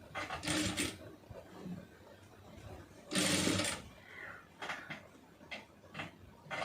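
A home sewing machine stitches pleated puff sleeve fabric in short whirring bursts separated by pauses, with someone talking quietly between and under the runs.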